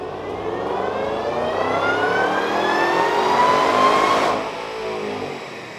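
A stock 2012 Shelby GT500 with a VMP Gen3 TVS supercharger, running race gas on a chassis dyno, screams upward in one steady, loud climb through the revs, then cuts off sharply near the end and settles to a lower hum.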